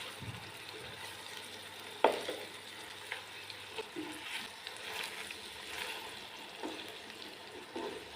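Fish pieces frying in oil for a village-style fish curry make a faint, steady sizzle with occasional soft clinks and one sharp tap of a utensil, quiet and without talking.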